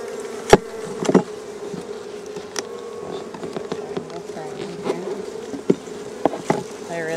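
Honeybees buzz steadily and loudly close by while a hive full of brood is transferred, with a few sharp knocks and scrapes of hive parts over the continuous drone.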